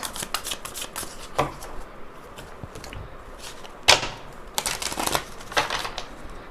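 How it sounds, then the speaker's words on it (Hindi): Tarot cards shuffled and drawn from a deck, with a series of crisp riffling bursts and soft slaps at irregular intervals, close and clear with no talking. "चलो लेट्स पुल सम कार्ड्स"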